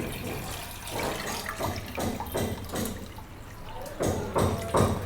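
Liquid splashing and gurgling in uneven pulses as vinegar is poured into hot water, close by, with a faint voice in the background.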